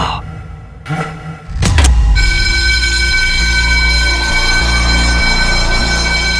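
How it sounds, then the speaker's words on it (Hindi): A fire alarm in an animated superhero episode sets off a loud, steady ringing tone that begins about two seconds in and continues unbroken to the end, over a low rumble. "अब ये फायर अलार्म किसने बजाया?"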